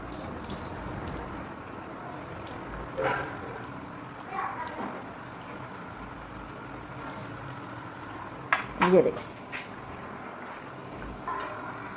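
Samosas frying in a pan of hot oil over a low flame give a quiet, steady sizzle, with a few brief louder spatters and clatters partway through.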